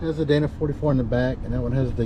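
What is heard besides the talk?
No everyday noise stands out behind the speech.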